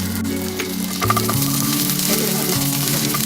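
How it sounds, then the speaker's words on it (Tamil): Ginger garlic paste frying in butter in a pan gives a steady, close sizzle with brief crackles, while faint background music plays beneath it. "இதில் வந்து 1 ஸ்பூன் வந்து இஞ்சி பூண்டு பேஸ்ட் போட்டுறேன்."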